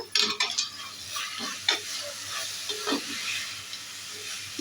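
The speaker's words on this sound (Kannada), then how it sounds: "ಒಂದು ಸಲ ಮಿಕ್ಸ್ ಮಾಡ್ಕೊಳ್ಳೋಣ" Bottle gourd halwa with cashews and raisins stirred in a pan on the stove: scraping, clinking spoon strokes at an irregular rhythm over a steady soft sizzle, close and alone.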